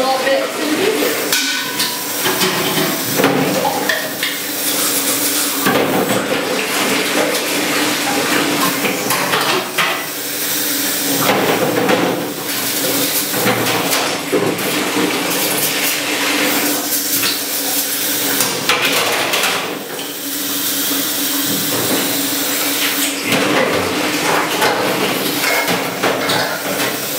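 Small metal milking-equipment parts clatter and knock in wash solution, a dense, continuous rattle of clinking pieces and sloshing water that stays loud throughout.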